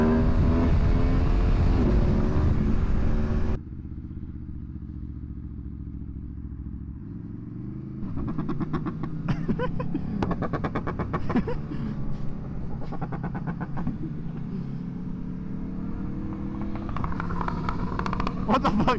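A motorcycle idles and then revs, its engine rising and falling in uneven bursts during a ride to a BBQ meet, heard fairly close, with a loud droning sound at the very start.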